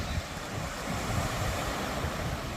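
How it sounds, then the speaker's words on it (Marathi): Steady roar of sea waves washing in continuously at Dandi beach, Malvan, on the Konkan coast, with a windy rush layered over the surf and no talking. "तुम्ही ऐकू शकाल समुद्राच्या लाटांचा"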